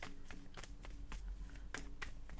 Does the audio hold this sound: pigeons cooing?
no